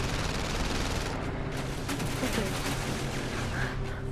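Dense, continuous gunfire from the PlayStation VR Worlds game, a rapid crackling barrage that stays loud and close for the whole stretch, with one brief spoken word over it.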